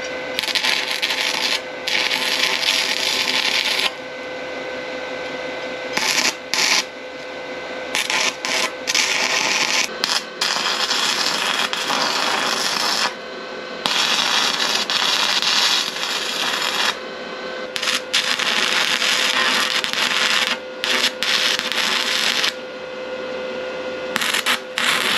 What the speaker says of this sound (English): I'm using 6011 just to tack this thing together